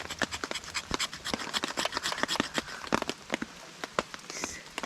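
Knife blade scraping fatwood into fine shavings and curls at a woodland campsite, a quick run of close, dry rasping strokes repeating in an irregular rhythm.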